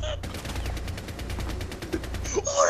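Rapid automatic gunfire from the tactical shooter Rainbow Six Siege rattles in a steady, fast burst of evenly spaced shots lasting a couple of seconds, close and prominent, with a voice breaking in near the end.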